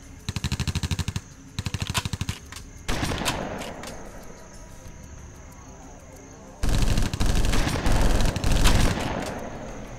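Rapid bursts of gunfire in the Soldiers of Anarchy game on a mission, loud repeated volleys in short clusters, with pauses between and a heavier burst near the end.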